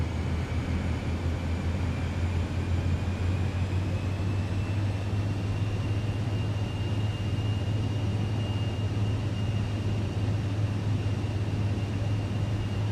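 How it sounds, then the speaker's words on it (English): A Cessna 408 SkyCourier's engines drone steadily in a flight simulator during an approach, an even, loud hum with a low tonal buzz and a faint high whine running unbroken throughout. "I like how you can hear that engine."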